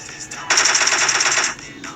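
DP28 machine gun firing in an online battle royale shooter game, a loud sustained burst lasting about a second after a short lead-in, with a brief further shot near the end.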